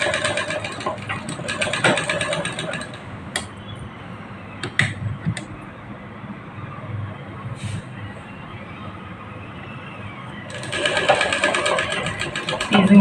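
A sewing machine stitches cutwork on cloth, its needle dropping beside the edging in a steady mechanical whir that pauses midway and then resumes loudly near the end.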